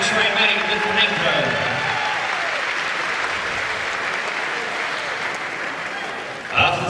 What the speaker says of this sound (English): Let's give a big round of applause, ladies and gentlemen, these two fighters, Tom Ford and the freight train man, Lytwyne